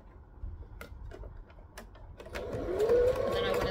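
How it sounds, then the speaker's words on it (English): A sewing machine stitching and backstitching a ruffle onto a wrap skirt, with scattered ticks and clicks at first, then a rising whirring run of the motor near the end. "And then I'm going to stitch and backstitch"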